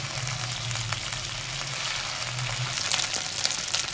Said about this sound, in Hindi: आपने इसको पलट कर जब तक फ्राई करना है जब तक ये थोड़ी सी क्रिस्पी ना हो जाए